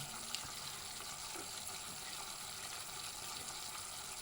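Paccheri pasta with pork ragù finishes cooking in a pan with a splash of water, giving a soft, steady sizzle and faint scraping of stirring, fairly quiet and without any voices.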